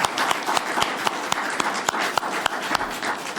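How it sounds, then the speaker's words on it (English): A crowd applauds the candidates at a local political forum, a steady wash of many hands clapping with some sharper nearby claps standing out. "Let's give a round of applause to all our candidates,"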